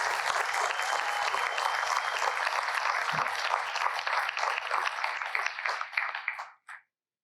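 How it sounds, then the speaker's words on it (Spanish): A church congregation applauds, a broad, sustained rush of many hands clapping at a moderate distance that thins out and stops abruptly near the end. "Si usted está dispuesto, dele un aplauso al Señor."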